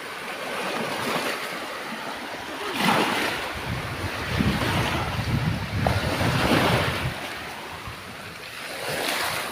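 Sea waves wash onto a beach at Baybay, where large driftwood logs lie along the shore, with steady surf swelling and breaking in rolling surges under constant wind buffeting the microphone.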